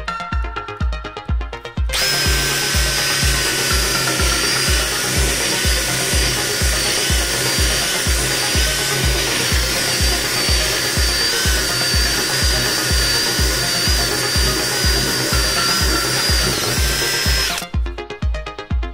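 A power drill with a 35 mm hinge-boring bit bores steadily into wood with a loud, sustained whine and grinding for about fifteen seconds, bracketed by brief rhythmic motor pulses at start and end.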